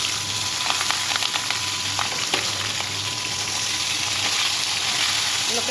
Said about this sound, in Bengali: এগুলোকে আমি একটু ভেজে নেবো ভালো করে।